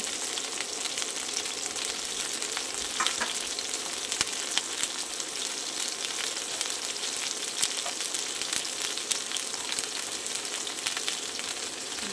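Garlic frying in a pan for a cauliflower dish, a steady bright sizzle with crackling oil popping throughout, close and continuous.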